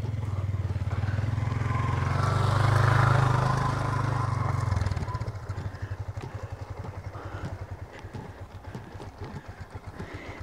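A motorcycle engine labours steadily on a road climbing toward a Japanese shrine in San Nicholas, Pangasinan, loud and close at first before settling into a choppier, pulsing putter for the rest of the ride.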